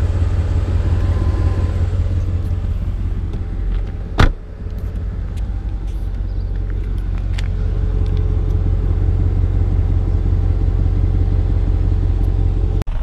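An Audi Allroad A6 C5 with a 4.2 V8 and a 5-speed transmission is heard from inside while driving, a steady, loud engine and road rumble broken by one sharp click partway through.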